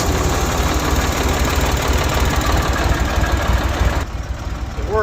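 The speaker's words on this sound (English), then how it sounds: "We're actually going to jump across the starter like so." Tractor engine on an Alumatech semi end dump rig cranking and running rough after the starter is jumped, a loud close knocking rumble that drops in level near the end.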